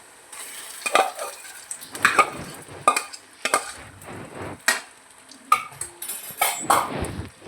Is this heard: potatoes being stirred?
yes